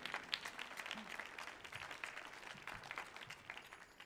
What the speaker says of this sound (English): we have to give another round of applause